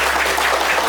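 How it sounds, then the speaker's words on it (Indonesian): Children applauding in a classroom, a brief, loud, even burst of many small hands clapping together at close range. "Tepuk tangan untuk semuanya."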